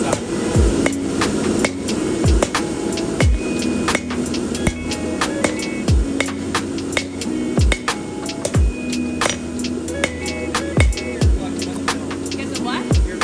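Hammer blows forging a pair of side cutters into a blade ring out in a steady series of sharp, loud metallic strikes, about two per second, over a constant low machine hum.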